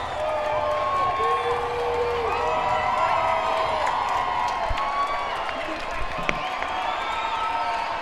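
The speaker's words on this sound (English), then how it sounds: "both fans have traveled well to this one, cheering on their respective teams" A packed gym of basketball fans at the TAPPS girls 3A state championship, Lubbock Christian versus Austin Brentwood, keeps up a continuous roar of cheering, whistles and scattered claps, with talk mixed in.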